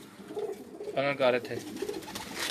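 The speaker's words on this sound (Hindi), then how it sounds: "कबूतर बैठे नहीं सही ठीक हो गया" Pigeons coo close by in a couple of rounded, throaty bursts, heard against people talking.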